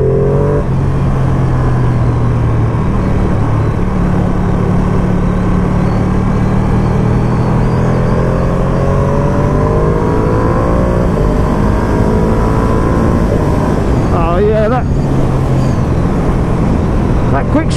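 A 2020 Ducati Panigale V2 motorcycle engine hums loudly and steadily while being ridden at an easy pace, with a brief pitch sweep near the end. A rider speaks over the continuous engine drone.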